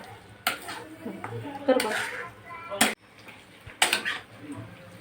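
Thick, sticky moong dal halwa stirred in a pan with ghee, making repeated scraping and clanking of the spoon against metal in uneven strokes, close and fairly loud, while someone talks briefly.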